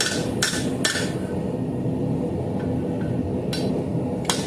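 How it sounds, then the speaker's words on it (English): A long-handled hammer strikes hot metal while a dinner bell is forged, a few sharp ringing blows at irregular intervals over a low steady background roar, with no talking. "Remember, you're going to use the flat side of your hammer."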